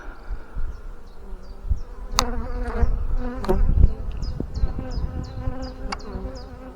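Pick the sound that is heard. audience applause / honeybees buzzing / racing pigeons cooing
honeybees buzzing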